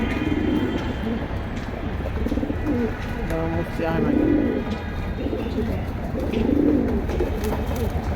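Pigeons at a pigeon sale coo in soft, repeated low rolling calls amid background chatter and a steady crowd murmur, with talking nearby.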